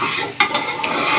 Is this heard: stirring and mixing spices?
yes